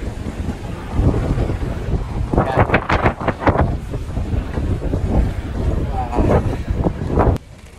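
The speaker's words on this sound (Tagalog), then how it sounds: "Lakas pa ng hangin" Strong wind buffets the microphone on a boat at sea, a loud continuous rumble and roar that swells in gusts and cuts off near the end, with voices talking over it.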